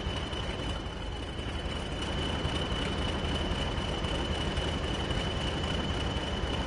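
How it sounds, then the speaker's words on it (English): An oil train rolling past in the Train Sim World simulator on a snowy route, a steady heavy rumble of wheels and wagons with a thin sustained squeal on top, continuous and fairly loud. "The old oil train."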